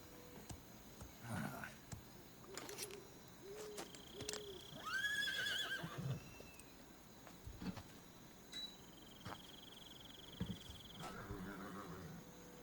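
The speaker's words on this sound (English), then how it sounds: "I found a horse." A horse whinnies with a rising and falling call in Metal Gear Solid 3: Snake Eater, set over a steady chorus of crickets and insects, with soft scattered hoof thuds and other game sounds around it.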